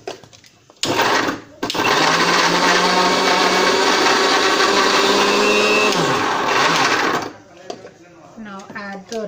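Mixer grinder pureeing papaya into a thin puree, a loud continuous motor whir that starts abruptly, briefly stops, then runs steadily for several seconds before cutting off, followed by quieter sounds.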